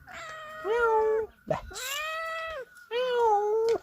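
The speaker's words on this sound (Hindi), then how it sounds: "म्याऊं म्याऊं की आवाज़ मुझे सुनाई दे रही थी" A cat in a mountain village lets out three drawn-out, close meows with short pauses between them, and a brief human call is heard in one gap.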